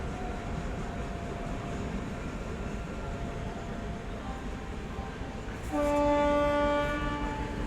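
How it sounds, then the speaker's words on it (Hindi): A passenger train rolls along the platform-one track of a station in a continuous rumbling wash of wheels and carriages, with a loud horn blast sounding partway through over the passing noise. "हमारी 9वीं क्रॉसिंग वाली ट्रेन सीधा प्लेटफॉर्म नंबर 1 की तरफ से जा रही है"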